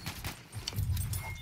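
Horse hooves clip-clop in the World War I shooter Battlefield 1, a quick patter of steps mixed into dense battlefield game noise.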